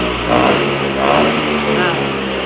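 Vespa scooter engine revved by hand on the throttle during a used-scooter check, a steady mid-pitched motor rising in two brief surges, close and continuous.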